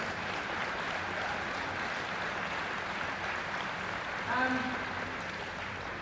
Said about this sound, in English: one more round of applause for those brilliant players